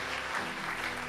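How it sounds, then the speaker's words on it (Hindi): Congregation clapping loudly in thanks during a church service, a brief burst of dense, moderately faint applause filling the whole moment. "हम जोरदार तालियों के साथ प्रभु यीशु का धन्यवाद करेंगे।"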